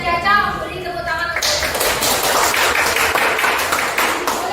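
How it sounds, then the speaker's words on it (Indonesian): Classroom applause for a student group after their presentation, starting after a brief voice and swelling into steady clapping from many hands that continues to the end. "Beri tepuk tangan."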